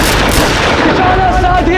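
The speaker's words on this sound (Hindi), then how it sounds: "अपनी बंदूकें संभालो और चलाओ गोलियां" Dense gunfire during a staged Mughal assault on the Chittor fort, with heavy volleys of shots merging into a continuous loud barrage and faint shouting mixed in.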